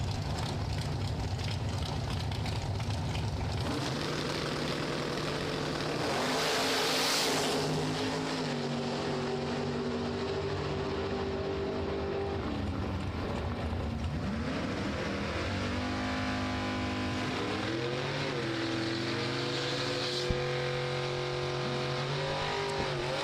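Drag racing cars, a Vega wagon in the right lane and a Camaro, roar at Kil-Kare Dragway, a loud continuous engine blare with rising and falling revving pitches throughout, with no talk over it.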